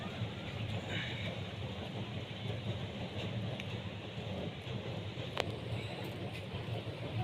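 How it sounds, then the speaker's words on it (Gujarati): A train rolls slowly across the Sihod bridge, a steady low rumble with faint rattling and occasional clicks throughout. "એકદમ ધીમે ટ્રેન જાય"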